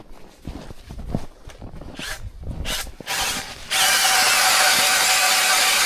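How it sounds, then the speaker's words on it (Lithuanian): A power auger drills fishing holes through lake ice on a frozen lagoon, with ratcheting, clattering mechanical noise giving way to a loud, steady grinding whir that continues to the end. "Skylių gręžimas vyksta."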